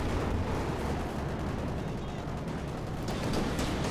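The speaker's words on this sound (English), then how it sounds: "Do get a strafing run here" Gunfire and explosions from a strafing run in Company of Heroes 2, a dense, continuous rumble of shots and blasts that stays loud throughout with no clear pauses.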